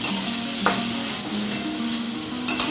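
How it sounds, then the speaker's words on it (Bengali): Potatoes coated with salt and turmeric fry in plenty of hot oil, producing a loud, continuous close-up sizzle with a couple of short clinks or pops along the way. "এবার এই আলুটাকে নুন হলুদকে খুব ভালো করে ভাজবো।"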